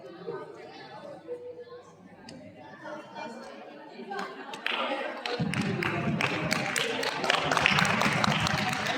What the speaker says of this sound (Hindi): एक बार जोरदार तालियों से स्वागत करेंगे अंकिता सामंत का